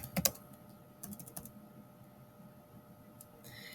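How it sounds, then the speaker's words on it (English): Chromebook keyboard typing: a quick burst of crisp key clicks at the start, then a few scattered taps later, fairly close and light against a quiet room. "I can begin to type."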